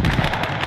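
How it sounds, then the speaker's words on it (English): Incendiary artillery shells striking a position in the World War II strategy game Call to Arms: Gates of Hell Ostfront, one brief, loud crackling burst. "So now we've got incendiaries hitting the position."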